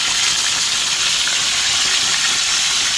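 Black pompano fish frying in a pan gives a loud, steady, close sizzle with a dense bright hiss and no talk.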